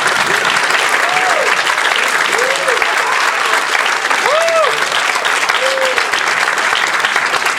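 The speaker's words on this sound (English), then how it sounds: "Let's give them a round of applause." Dense, loud applause from a graduation audience celebrating graduates, a continuous wash of clapping with faint voices and whoops scattered through it.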